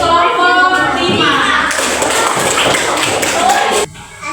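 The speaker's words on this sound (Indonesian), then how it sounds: "tepuk tangan untuk kelompok 5" Classroom applause for a student group, dense broadband clapping from many children that runs steadily for almost four seconds, then cuts off sharply, with faint voices mixed in.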